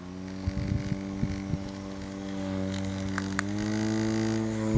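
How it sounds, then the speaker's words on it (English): A handheld mini face fan running with a steady, close motor whine that has layered tonal hum, and a few faint clicks and handling taps early on. "This is a fan, like for your face, a face fan, I guess that's what you want to call it, a mini fan."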